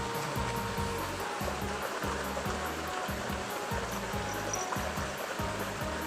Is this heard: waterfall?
yes